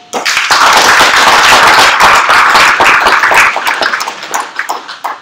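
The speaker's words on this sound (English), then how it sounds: "Applause for us." Audience applause at a workshop session, a burst of clapping that starts abruptly, holds strong for several seconds, then thins into scattered claps.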